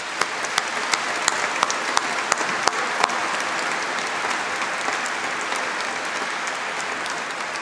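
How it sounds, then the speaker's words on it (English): Audience applause at a university graduation ceremony, honouring a law clinic: dense, steady clapping from a large hall crowd, with a few sharper individual claps standing out early on, no voices over it. "they deserve a round of applause"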